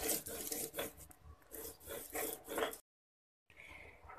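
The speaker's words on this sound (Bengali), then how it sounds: "এখন আমি একটা রসুন দিয়ে দেব, রসুনটাকে ভালো করে মিহি করে বেটে নেব।" Garlic being ground fine on a stone grinding slab for dry fish mash, heard as a rhythmic rasping scrape of stone on stone, close and fairly quiet, with a brief silent gap before the scraping resumes.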